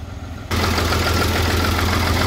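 An HMT 3511 tractor from 1990, a 3-cylinder 35-horsepower diesel, idles with a steady low throbbing rumble close by, its level rising sharply after the first half-second and holding loud and even.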